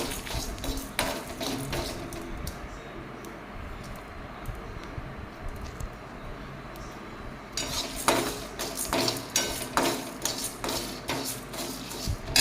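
Grated coconut and dried red chillies roasting in a pan, heard as repeated scraping and clinking of a spoon against the metal pan with a low background hum, busier at the start and end with a quieter stretch in the middle.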